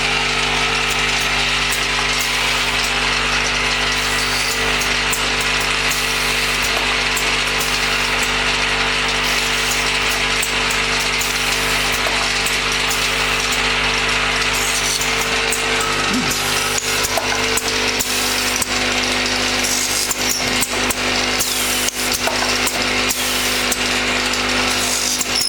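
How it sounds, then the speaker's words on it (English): A wood dowel double-end chamfer machine runs with its cutter on, making a loud, constant mechanical roar with rattling and grinding that keeps going without a break. No one talks. "And then auto loop, start the cutter and press the button."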